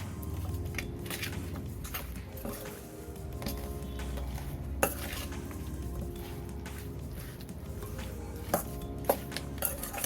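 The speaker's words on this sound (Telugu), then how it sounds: "దీన్ని చక్కగా కలిపేసి మనం మ్యారినేట్ చేసుకుందాం." Chicken being mixed by hand in a bowl with two tablespoons of chili powder and salt for a gongura chicken marinade, soft close squishing and stirring with occasional sharp clinks of utensils against the dish, no talk.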